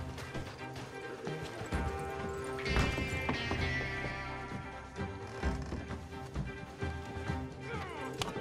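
Horse-drawn wagon in Red Dead Redemption 2, hooves clip-clopping at a steady rhythm, mid-distance and moderately loud, mixed with rattling wagon noise and a brief speaking voice over the top.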